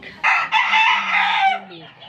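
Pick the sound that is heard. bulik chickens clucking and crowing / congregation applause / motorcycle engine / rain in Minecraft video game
bulik chickens clucking and crowing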